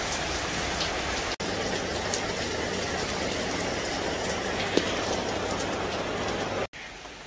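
Steady rain pours down in a dense, continuous hiss that stays even and unbroken for several seconds, with no voices.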